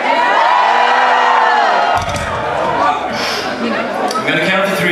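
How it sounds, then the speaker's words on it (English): A concert crowd at Hedon in Zwolle roars, cheers and shouts continuously, a dense wash of voices with whoops and yells that stays loud throughout, swelling and settling slightly partway through. "I'm gonna challenge you to be the loudest crowd ever."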